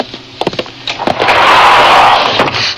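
A door slides open in a radio drama set aboard a spacecraft: a few sharp knocks and clicks, then a loud sustained mechanical whoosh that swells and fades, with no voices over it.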